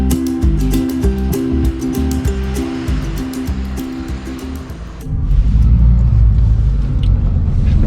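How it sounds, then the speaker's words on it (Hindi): A car drives along a road near Rishikesh, loud and close. A pulsing engine drone with clicking gives way after about five seconds to a deeper, heavier roar of rolling tyres and wind. "अब गाड़ी से मेरे को 13 किलोमीटर जाना पड़ेगा एक साइड से"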